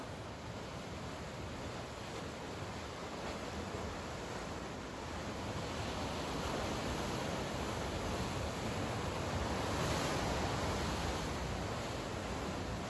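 Sea waves at the shore wash in a continuous, even roar that swells slightly in the second half, with no voices.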